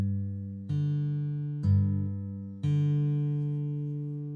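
Mellow acoustic guitar bass notes plucked with a bare thumb in a fingerstyle alternate-bass pattern: three soft, sustained low notes at even spacing, each ringing out and decaying into the next, with no talking.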